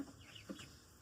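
Chickens give a few soft, faint clucks, spaced irregularly over a second, with no voices.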